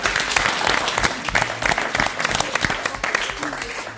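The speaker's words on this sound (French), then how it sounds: "Vous pouvez vous applaudir pour cette fin d'émission." A studio audience applauds at the close of a sports television programme, a fairly close burst of many hands clapping with crisp individual claps showing through and fading toward the end.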